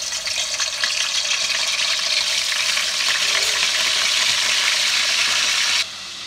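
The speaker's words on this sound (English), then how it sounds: "Okay, next I put pork to fry." Pork fries in soybean oil with a steady, dense hiss and crackle, close and loud, cutting off sharply near the end.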